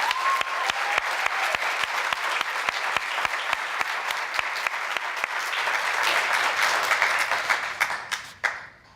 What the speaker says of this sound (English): how about one more round of applause for those two powerful women?